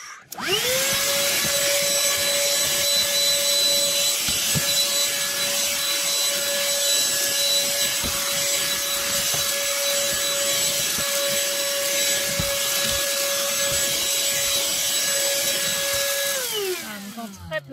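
A handheld vacuum cleaner with a brush runs steadily over black carpet, a loud continuous motor whine holding for about sixteen seconds before winding down, with faint scraping of the brush underneath.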